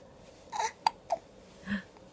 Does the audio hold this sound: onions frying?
no